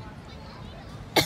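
One short cough from a person at the very end, brief and sharp over faint outdoor background murmur by a beach at low tide.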